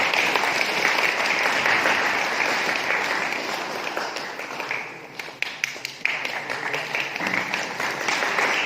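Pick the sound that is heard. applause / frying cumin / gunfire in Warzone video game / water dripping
applause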